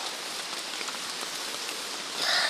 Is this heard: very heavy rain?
yes